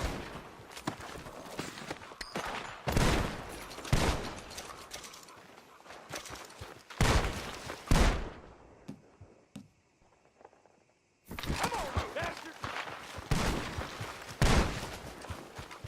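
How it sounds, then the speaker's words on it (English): Bursts of gunfire in Red Dead Redemption 2 crack repeatedly with brief pauses, loud and close, followed by a short lull and then another volley. "The gunshots are coming from that barn."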